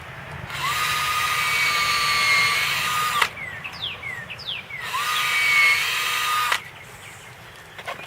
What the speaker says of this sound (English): Okay, I'm going to drill it.